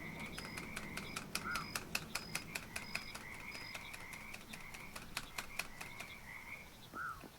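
Frog ribbits in the video game Noita, a rapid train of sharp clicky croaks repeating at a fairly steady rhythm over a soft background hum.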